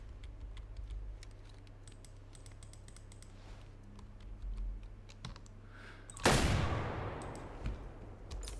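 A shotgun loaded with buckshot fired at a pheasant in the hunting game Way of the Hunter, a single sharp blast that rings out and decays over faint clicking.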